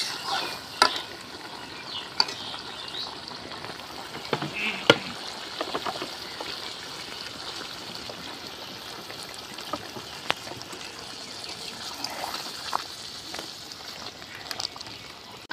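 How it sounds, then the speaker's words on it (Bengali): Water is poured into a pan of braised chicken and young jackfruit, with soft splashing, stirring and sizzling throughout and scattered sharp clinks of a utensil against the pot. "আমার এই যে চিকেন আর এঁচড়টাকে কষানো হয়ে গিয়েছে, এর মধ্যে এবারে হালকা সামান্য জল দিয়ে দেব"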